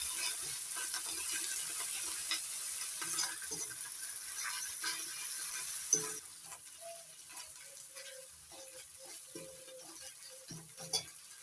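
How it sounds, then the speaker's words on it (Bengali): Ginger and garlic paste frying in a pan, a soft steady sizzle with occasional stirring scrapes and clinks, faint and close, with no talking. "এবার দিয়ে দিচ্ছি আদা বাটা রসুন বাটা আদা রসুন কাঁচা গন্ধটা তুলে দেওয়া পর্যন্ত একটু ভেজে নেবো"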